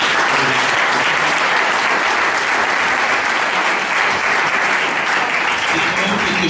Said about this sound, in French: je vous invite à applaudir vraiment très fort pour ce collectif